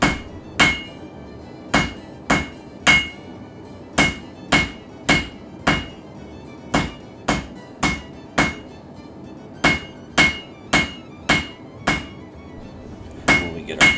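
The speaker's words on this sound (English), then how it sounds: "As you can see, to start, we are forging out a taper." Hammer blows forge a taper on a copper wand, a steady series of sharp, ringing metallic strikes about once per second, close and loud with brief pauses and no talk.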